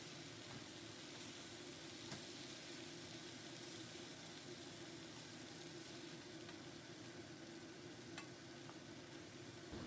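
Fried potato and eggplant stirred into a curry in a pan, a steady broad sizzle and bubbling with occasional soft scrapes, continuous and fairly quiet throughout.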